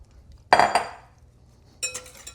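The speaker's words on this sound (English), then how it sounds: "Stick it in there and then whisk it up." A whisk clatters against a bowl while mixing psyllium husk with lukewarm water for gluten-free pizza dough: two sharp knocks, a ringing tail, then a quick burst of metallic clinks near the end.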